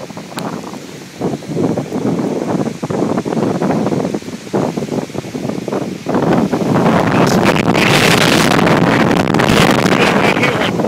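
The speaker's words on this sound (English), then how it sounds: "Fucking windy as fuck." Strong wind buffets a microphone outdoors in the dark during heavy weather, a loud, steady roar that swells into harsher gusts toward the end, with a voice briefly audible early on.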